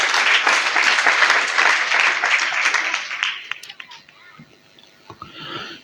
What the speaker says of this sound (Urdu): آپ سب کو مشن سنڈے بہت بہت مبارک ہو، بھرپور تالیوں میں